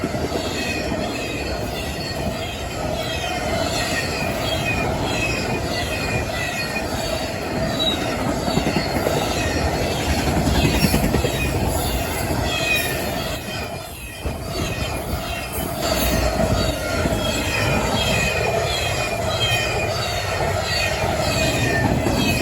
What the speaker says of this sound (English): My first time seeing a CSX carriage unit.